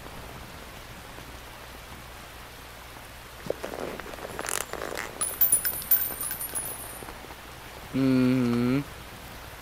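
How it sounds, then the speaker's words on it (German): Steady rain hisses in Metal Gear Solid 3 on PS3, a constant soft wash, joined midway by some brief clattering game sounds and near the end by a short murmured voice. "You can entertain me until the rain stops."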